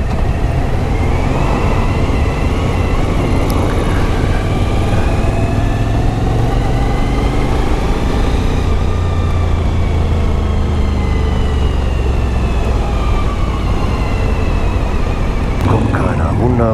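A Suzuki V-Strom motorcycle engine drones steadily while riding on the road, with a constant loud rumble and wind rush; its pitch climbs and eases as the bike changes speed.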